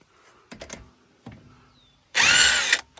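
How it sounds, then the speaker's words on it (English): A few sharp clicks and taps, then a loud, harsh burst of an air impact wrench rattling for about half a second. "on the air impact, it goes boom, which is really fun"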